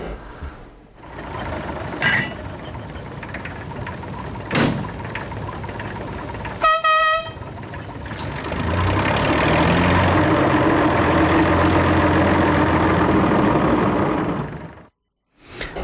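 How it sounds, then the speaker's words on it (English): A steam railway train rumbles along the tracks, with a sharp whistle-like tone in the middle and a long, steady loud roar building toward the end. "We've got another sound that you recorded at the railway"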